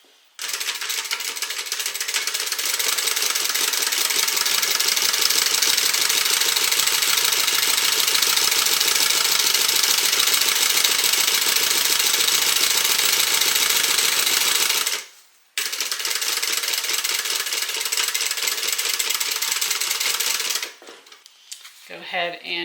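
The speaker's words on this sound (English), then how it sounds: "we're going to sew from the wrong side or the lining side" A sewing machine stitches through fabric lining in a long, steady mechanical whir close by, stopping briefly midway before running again and winding down near the end.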